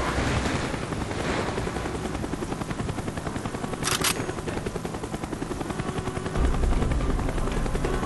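In a Call of Duty Black Ops mission over the Gulf of Mexico, a helicopter roars steadily with a rapid rotor chop throughout, a brief sharp metallic burst midway and a heavier thump toward the end.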